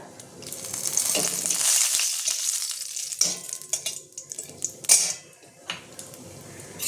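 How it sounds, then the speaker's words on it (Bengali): Bay leaf tempering dropped into hot oil for a Bengali shukto, giving a loud, close, crackling sizzle that swells and then breaks into sharper spits and pops with no voices. "এই তেলের মধ্যে আমি এবার ফোড়নটা দেবো। দিয়ে দেবো তেজপাতাটা,"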